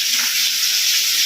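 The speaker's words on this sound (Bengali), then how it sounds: "মাছটা ভেজে" Fish frying in a pan in a home kitchen gives a steady, close, bright sizzle with no break or talking over its short length.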